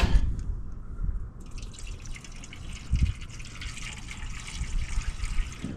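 Water trickling and dripping into the radiator of a 1978 Dodge D300 truck, a steady low splashing with brighter drips, close by and moderately loud with no talk.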